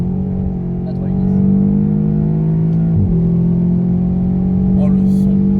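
A Seat Leon Cupra engine pulls hard in a steady, loud drone, its pitch climbing, dropping abruptly at a gear change about halfway through, then rising again, heard from inside the car.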